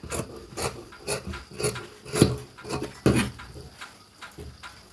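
Blouse sleeve fabric being cut, heard as a steady series of close, rhythmic rasping snips, about two per second, with no talking.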